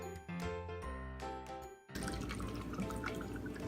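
Room temperature water poured into cups, with light chiming, dripping tones at first and then a dense, steady splashing pour, close and unaccompanied by speech.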